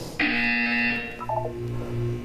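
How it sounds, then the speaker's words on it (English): Buzzer from the Portal 2 video game: a loud, steady electronic tone lasting about a second, followed by a short series of rapid beeping pulses over a low background hum. "You will hear a buzzer."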